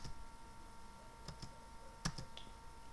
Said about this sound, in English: and let's type this